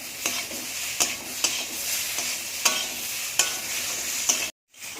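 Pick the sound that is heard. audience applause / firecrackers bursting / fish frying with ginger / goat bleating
fish frying with ginger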